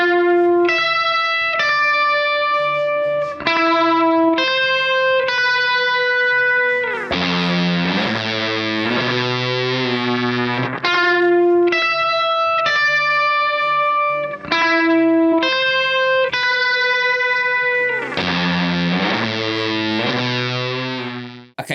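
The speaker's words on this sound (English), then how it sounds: "the signal chain without the fuzz is the guitar into the Lightspeed, into the Delay Llama" An isolated electric guitar part played through a Lightspeed compressor and a Delay Llama echo pedal, a loud, sustained riff of repeating picked notes and chords with a thick, slightly distorted tone and trailing delay, no voices.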